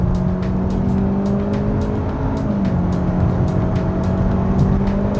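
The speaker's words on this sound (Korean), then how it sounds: "스포츠 모드를 놓고 악셀 다 밟았어요." A 2022 Hyundai Avante CN7 in sport mode with the accelerator floored gives off a steady, strained engine drone and road noise that swells slightly as speed builds.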